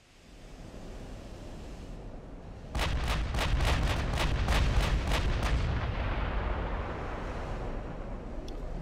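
Ships' naval guns in the naval warfare game Ultimate Admiral: Dreadnoughts fire a salvo of about a dozen sharp booms in quick succession over a constant wash of sea and wind, with no voices.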